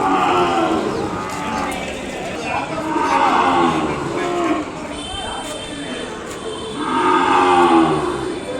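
An Ongole calf at a weekly cattle market in Kodad gives several drawn-out moos, close and fairly loud, amid crowd murmur and nearby talk.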